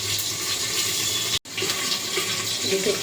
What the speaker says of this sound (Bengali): এক চামচ কালো জিরে ফোড়ন দিয়ে দেবো।